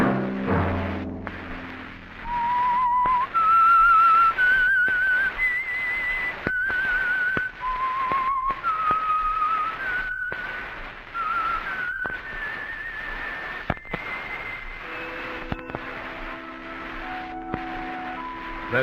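A clear whistled melody, the signature tune of a 1952 radio drama, rises and falls in short phrases over a low background, then ends with a few sustained tones near the close.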